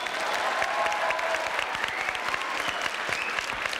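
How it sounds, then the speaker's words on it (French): A studio audience on a French television show applauds, a full, sustained burst of many hands clapping that holds steady at close range. "Applaudissements."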